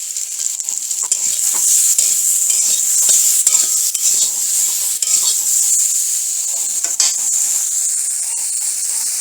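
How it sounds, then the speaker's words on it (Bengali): Potatoes fry in a pan with a loud, constant high sizzle, broken by repeated spoon scrapes and metal clinks as they are stirred, close up and without speech. "আলুগুলোকে একটু ভেজে নেব।"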